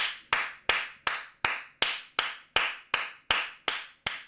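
One person claps alone in applause for a football player during a Premier League match, twelve crisp, evenly spaced claps at a steady moderate pace, close and fairly quiet, each with a short decay.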